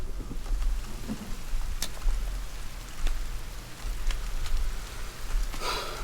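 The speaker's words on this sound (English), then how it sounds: "oh, at least it's raining." Steady rain in the video game The Forest patters on a surface with scattered droplet taps and a low rumble underneath, continuous and fairly close, with no voices.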